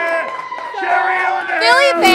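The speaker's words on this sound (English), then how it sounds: "And how about this crowd behind us?" Crowd of Phillies fans at a bar before an NLCS game, cheering and whooping under a close voice speaking over them, the noise swelling toward the end.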